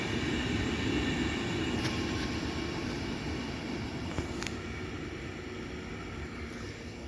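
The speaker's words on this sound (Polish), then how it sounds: "Jedzie coś bez zatrzymania." A train runs through Zawiercie station without stopping, heard as a steady, loud rolling rumble lasting throughout, with a few brief high squeals from the wheels and no talking.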